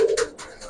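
A Giribaz pigeon gives a short close coo, a single brief call with slight rustling after it.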